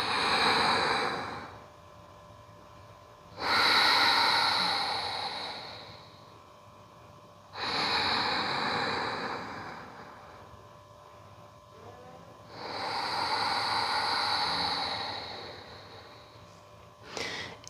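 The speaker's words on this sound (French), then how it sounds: "je vais prendre des grandes respirations yogiques complètes." Deep, full yogic breaths drawn and released close to the listener. Four long airy breath sounds, each lasting about two seconds, are separated by quiet pauses, and no one speaks.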